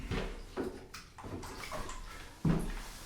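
Water tipped into a bucket of white mist coat paint for a bathroom renovation, a few short sloshing pours and splashes at close range, with one louder splash near the end.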